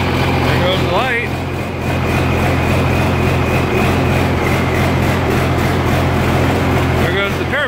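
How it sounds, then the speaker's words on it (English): An Oliver 1855 tractor's turbocharged engine runs with a steady low drone while a thin turbo whine rises and holds above it, loud and close. "There goes the turbo."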